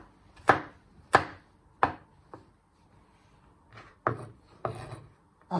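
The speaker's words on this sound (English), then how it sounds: "After when you have finally diced your garlic" A sharp knife dices garlic on a board with about eight distinct, crisp chopping strikes in an uneven rhythm, separated by short quiet pauses.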